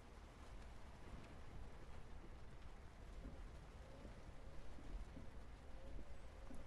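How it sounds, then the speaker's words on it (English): Steady rain falling during a truck drive in American Truck Simulator on a Nevada route, a faint, even hiss of drops that continues without a break under a low engine rumble. "Rain again."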